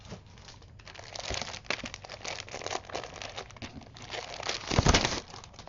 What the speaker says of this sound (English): Now we're going to cut our paper down.